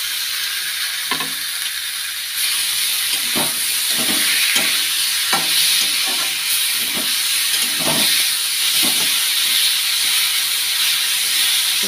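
Garlic and onion frying in a pan in a home kitchen, a constant loud hiss and sizzle with occasional scraping stirs and clinks of a utensil against the pan.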